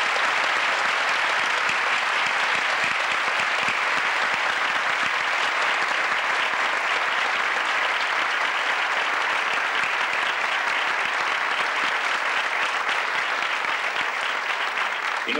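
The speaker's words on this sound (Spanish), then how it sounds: "Francisco José López Arriba, merecen, antes que nada, el aplauso de todo el teatro que está aquí" Theatre audience at a 1988 literary festival in Tomelloso, Spain, gives loud, dense, continuous applause lasting around fifteen seconds, a full-house roar of clapping with no pause.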